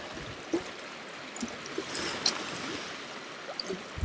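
Fast, broken water of a wild brown trout stream in Sutherland rushes steadily as a broad, even hiss, with a few faint splashes and knocks scattered through it.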